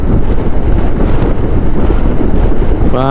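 Strong wind buffets the microphone near a fishing port on the coast, a loud, steady roar and rumble throughout with no talking.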